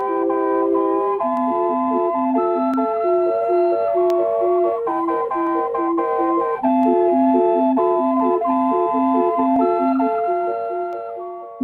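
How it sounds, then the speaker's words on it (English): A steam-powered calliope organ of the circus and carousel kind plays a bright, reedy, bouncing oom-pah melody. Repeated short notes move over a steady accompaniment, loud and continuous, with no voices. "A calliope is a steam-powered organ, often used in circuses and in carousels."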